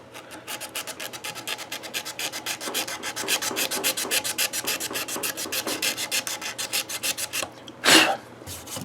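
Rapid, rhythmic back-and-forth scrubbing strokes rub aged markings off a guitar's finish, a steady rasping cadence at close range that ends with one louder, brief burst.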